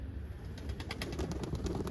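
Pigeons in a backyard coop, with soft cooing and occasional wing flutter in a low, steady murmur that never rises to a single clear call.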